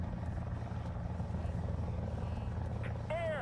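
An OH-58 helicopter flies in the War Thunder game, its rotor throbbing as a steady, faint drone throughout, with a short electronic tone near the end.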